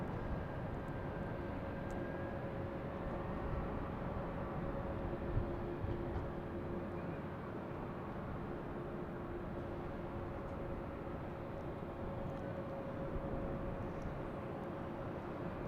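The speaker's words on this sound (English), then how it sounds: "we have a Delta coming in from Philadelphia on the closer runway" A Delta airliner arriving from Philadelphia on the closer runway at Boston Logan Airport, a distant, faint, steady jet engine drone with a low whine, heard outdoors without speech.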